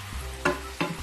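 Fried onions tipped into a rice cooker pot of pulao and stirred, giving two short scraping, sizzling bursts close up over a low steady background hum.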